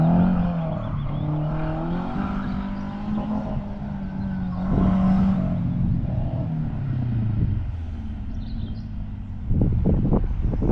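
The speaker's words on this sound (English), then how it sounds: "it turned out there was some sort of motor rally in progress" Rally cars on a disused airfield runway at RAF North Witham, heard as a steady engine drone with rising and falling revs, fairly distant under wind, with a louder rumble near the end.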